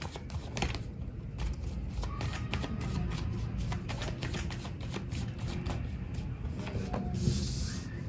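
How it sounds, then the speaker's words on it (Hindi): Tarot cards are shuffled by hand in a steady run of crisp riffling and flicking, close and fairly quiet, with no talk. "मैं कर रही हूँ कार्ड शफल"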